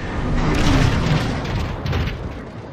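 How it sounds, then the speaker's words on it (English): Warp cannons shell the Ark in the Transformers: Fall of Cybertron video game, producing heavy booming explosions that rumble continuously and loudly throughout, with dense low-end blasts layered together. "Optimus, there are three warp cannons shelling the Ark."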